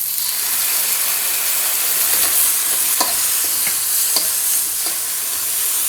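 Soy sauce hits pork fried rice in a hot pan, raising a loud, dense sizzle broken by scraping stirs and clicks of the utensil, continuous and close.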